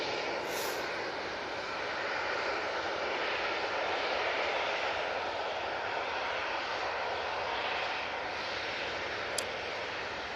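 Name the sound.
propeller aircraft at Manchester Airport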